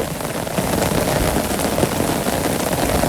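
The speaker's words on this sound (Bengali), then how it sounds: "খুবই সুন্দর বৃষ্টি হইলো। এই বৃষ্টি মনে হয় না যাইব" Rain pours steadily in a Bangladeshi village on a rainy-season day, a loud, dense, even hiss of drops striking surfaces close by, with no talking.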